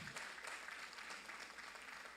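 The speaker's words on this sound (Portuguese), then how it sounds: "Quem aplaude a Deus aqui dentro?" A church congregation applauding during a sermon, a steady broad wash of clapping that holds evenly throughout at moderate distance, with no voice over it.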